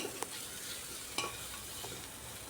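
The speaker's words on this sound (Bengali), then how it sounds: "এবার মশলা দিয়ে এটাকে খুব ভালো করে কষিয়ে নিচ্ছি।" Spices with chili powder and crushed green chilies are stir-fried in a pan, making a faint, steady sizzle broken by a couple of sharp utensil taps, with no talking.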